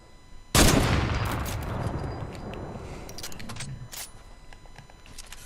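A loud gunshot from the Fortnite video game, followed by a long echoing tail and scattered distant shots and clatter, with no talking.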